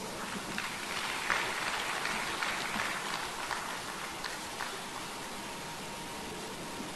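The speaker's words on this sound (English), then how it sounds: "Let's welcome him with a round of applause." An audience at an accountancy association's annual conference in Africa applauds. Dense, even clapping fills the hall at a moderate, steady level for several seconds.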